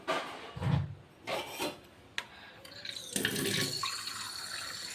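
Water is poured into a pot to boil eggs in a home kitchen. Quiet knocks and scrapes come first, then a faint, continuous splashing pour swells in the second half.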